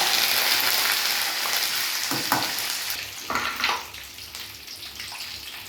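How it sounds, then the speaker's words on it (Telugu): Curry leaves sizzling in hot oil, a loud crackling hiss that flares with a couple of stirring scrapes and then settles into a quieter, steady fry. "కరివేపాకు వేసుకోవాలండి."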